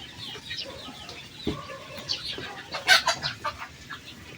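Gamecocks on a Philippine fighting-rooster farm cluck repeatedly in a busy, overlapping cluster, with sharper, louder calls bunching near the end over a steady background of farmyard birds.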